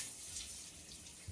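Water gushes from a leaking sink, a steady hissing spray that stays even and close, with a faint low splash near the end.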